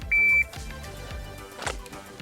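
A shot timer gives a single short, loud electronic beep at the start of a pistol draw drill, followed by faint thuds and rustling handling sounds.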